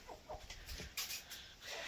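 Chickens clucking in short, irregular bursts, fairly faint and a little distant, with no talk in between.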